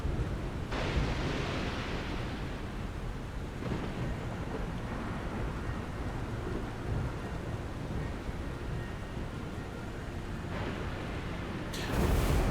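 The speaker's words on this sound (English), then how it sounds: "It is now raining" Steady broadband rain in the video game Industries of Titan, a continuous wash with low rumbling swells and no voices, holding even and fairly loud throughout.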